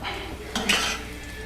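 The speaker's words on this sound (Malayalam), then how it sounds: "നമുക്ക് ഒന്ന് ഇളകാം" A metal spoon scrapes and clinks briefly in a pan of lemon-and-mango curry tempered with mustard seeds, chillies and curry leaves, giving a short close stirring clatter over a faint background hiss.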